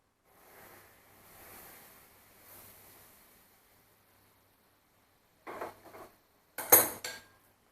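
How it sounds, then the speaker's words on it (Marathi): Oil mixed into flour in a bowl for spicy puris: after a quiet stretch, two short bursts of spoon clatter against the bowl, close and fairly loud, with no talk. "मिक्स करून घ्यायचं पिठामध्ये सगळीकडे।"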